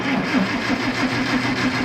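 Engine of a Super 44 running just after a spark plug change, a steady, close mid-pitched rumble with an even, rapid pulse and no talking.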